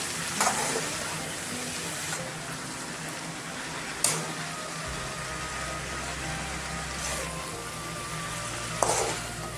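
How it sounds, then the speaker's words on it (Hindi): Cabbage, carrot and pea sabzi fries in a pan with a continuous soft sizzle, broken by a few sharp scrapes and clacks from stirring and a low hum partway through. "अभी मैं अच्छा से मिक्स करेंगे और 5 मिनट्स में पकाएंगे"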